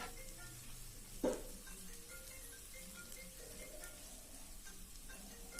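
Turmeric being stirred into ginger-garlic paste frying in a pan: a soft, steady sizzle with scraping stirs and one sharper clink near the start, quiet and without talk.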